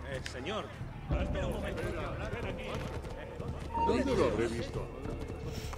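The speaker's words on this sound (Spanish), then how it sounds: "Me voy a coger el caballo." A horse's hooves clip-clop in a steady galloping rhythm in the Assassin's Creed 2 video game, with game ambience and occasional other sounds mixed around it.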